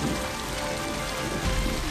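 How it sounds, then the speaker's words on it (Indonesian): Steady rain pattering on a surface in a film scene, a dense, constant hiss with no distinct thunder clap standing out. "hujan disertai petir pun mulai turun"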